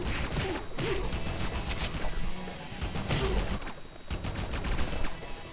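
Rapid bursts of gunfire and crashing impacts come from the Spider-Man 2000 video game, loud clustered volleys with short gaps between them.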